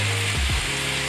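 Tomatoes hit a hot pan for zucchini linguini, giving a loud, close, continuous sizzle and hiss.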